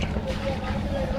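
A motorized trawler boat sets off near Bholaganj in Sylhet in the rain, its engine giving a steady, close, low drone that runs unbroken throughout.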